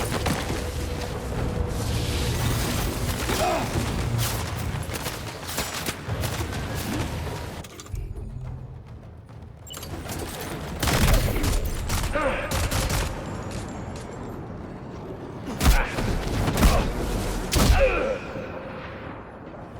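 Gunfire crackles in Death Stranding 2 in bursts of sharp shots across a noisy, busy game soundscape, with loud volleys at the start and again toward the end around a brief quieter gap.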